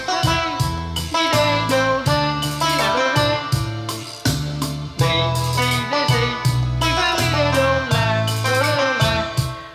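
An electronic organ plays the intro of a Vietnamese song, a bright melody over a steady rhythmic accompaniment, loud and clear with no voices.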